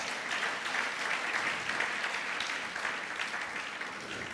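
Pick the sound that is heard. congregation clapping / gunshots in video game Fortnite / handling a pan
congregation clapping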